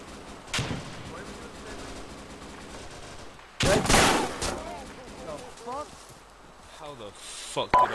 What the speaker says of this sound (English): where's that grenade fire coming from?